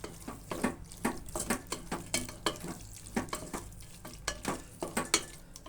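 Masala with food colour being stirred in a pan for bread pulao: a steady run of close, rhythmic scraping strokes, about two per second, with no one talking.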